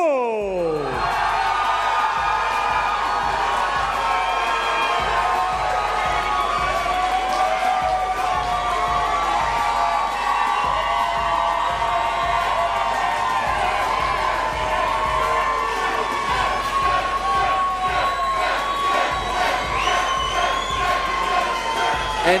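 A large arena crowd cheers and whoops loudly and continuously as amateur fighter Sam Ho walks out to the red corner at a charity boxing event, with shouting voices and music swelling throughout.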